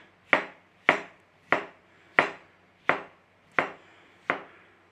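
A knife slices through par-cooked potatoes on a board: seven sharp, evenly spaced cuts, close and distinct, each ending in a solid tap on the wood, with no voices.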